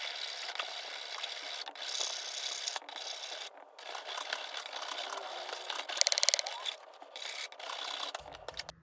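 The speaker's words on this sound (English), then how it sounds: "So I'm going to go ahead and start hand filing this one down." Hand filing an Offenhauser triple-barrel intake for a Ford 200 engine, giving steady raspy metal rubbing strokes that carry on through the clip, with a brief rattling burst near the end.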